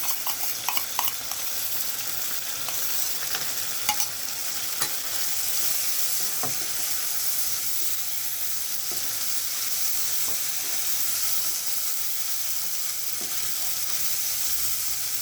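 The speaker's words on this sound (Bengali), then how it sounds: "সামান্য একটু জল দেবো দিয়ে আর নাড়াচাড়া করে নিই" Prawns in yogurt, doi chingri, cook in a pan with a steady, even sizzle and frying hiss throughout, plus faint scraping and stirring clicks near the start, up close with no talking.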